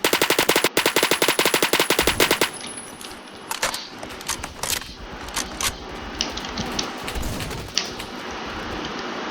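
Automatic gunfire in the Roblox shooter Phantom Forces: a rapid, loud burst of evenly spaced shots for about two seconds, then scattered single shots and mechanical gun clatter.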